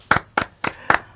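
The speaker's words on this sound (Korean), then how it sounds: "박수가." Five sharp, evenly spaced claps ring out alone over about a second, at a children's welfare center gathering, each a distinct close burst with a brief decay.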